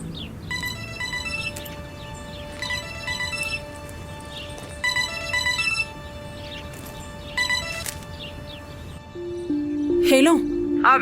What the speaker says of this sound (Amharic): ለምንድን ነው በሌላ ስልክ የደወልሽው?